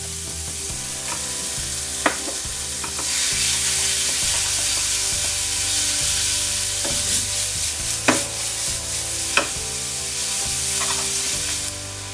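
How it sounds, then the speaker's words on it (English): Beef frying with softened onion in a pan, a continuous close sizzle with intermittent scraping and stirring clinks, no talk. "Onion becomes soft, then you can add the beef."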